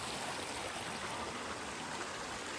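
Steady rushing irrigation water flowing down a channel in a sugarcane field, a broad even wash of sound with no voices, close by and moderately loud throughout.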